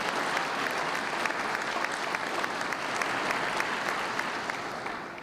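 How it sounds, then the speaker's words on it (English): A steady round of applause from a ceremony audience at an Alabama honor induction event, dense and even throughout, moderately loud, with no voices over it. "Ladies and gentlemen, give them a round of applause"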